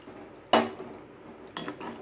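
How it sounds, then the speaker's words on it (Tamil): Water is poured into a cooking pot of lentils in two short splashing bursts separated by a pause, close and fairly quiet, with nobody speaking. "இப்போ இதுக்கு தேவையான அளவு தண்ணி ஊற்றிக்கலாம்"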